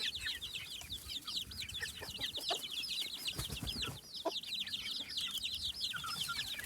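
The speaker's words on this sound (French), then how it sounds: "dans le seigle, il y a la poule qui couve" Chickens on a smallholding give rapid, repeated clucks and chirping calls, a busy overlapping chatter close by against a low outdoor background.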